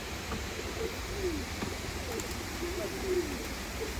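Soft, repeated cooing from a flock of hungry pigeons kept by a pigeon fancier, several low calls spread across the clip over a steady hiss, with faint voices in the background.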